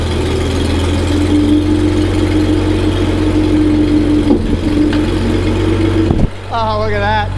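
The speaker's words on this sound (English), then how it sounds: "Because it's a narrow nose tractor, we can get in here in pretty tight places." A narrow nose farm tractor engine runs loud and close with a deep, steady drone and a whining tone as it moves, broken by a brief dip near the end.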